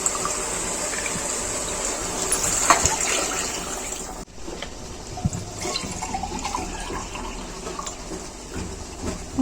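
Water runs and splashes steadily into a pressure cooker for chicken biryani, a continuous pouring sound with a brief louder gush partway through, heard close up without any talking.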